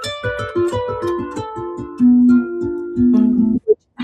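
Harp chord built around a tritone interval, plucked notes arriving in quick succession and ringing together, close and fairly loud, then a short final plucked accent after a brief gap.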